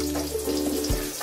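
Eggplant omelette, tortang talong, frying in oil in a pan, a steady close sizzle and crackle with a faint low hum beneath, no talking.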